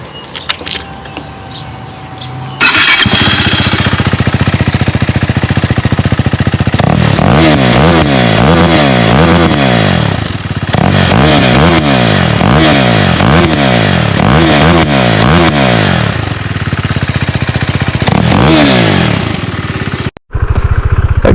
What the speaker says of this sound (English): I'll cut to a quick exhaust clip